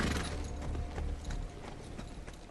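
Horse hooves clip-clop at a steady walking rhythm as a man rides toward town with his dog, the repeated hoof strikes fairly soft against a low background rumble.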